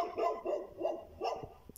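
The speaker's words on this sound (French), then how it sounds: "mis à part le chien qu'on entend à côté, là, du voisin" A neighbour's dog barks four times in quick succession in a garden in France in December, clear and moderately close, with no talking.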